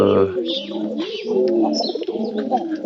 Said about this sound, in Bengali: এই যে সাদা পায়রা কবুতর দেখতেছেন আপনারা